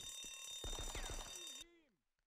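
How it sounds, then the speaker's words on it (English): A fire alarm rings in the Die Hard video game, a loud pulsing electronic bell that repeats in quick bursts, then cuts off as a falling game tone sweeps down and fades away. "A fire alarm."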